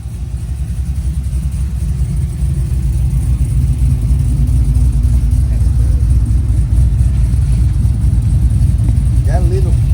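A 2003 Chevrolet Silverado with a brand new LS3 V8 long block swapped in rumbles loudly nearby, its deep engine note building and holding steady with a low, throaty drone.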